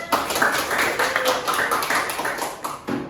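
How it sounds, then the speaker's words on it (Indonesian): A classroom audience gives a short burst of applause during a microteaching lesson, a dense, steady patter of many hands clapping together for about three seconds before tapering off. "Oke, tepuk tangan."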